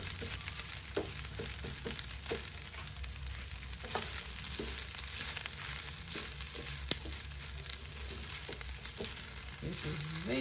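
Eggs sizzle and crackle in a hot pan for egg fried rice, a continuous close frying hiss broken by occasional stirring scrapes.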